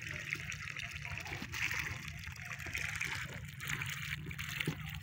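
Water runs in a steady, strong gush outdoors in a Pakistani village, a continuous rushing wash with some low rumble beneath and faint voices in the background.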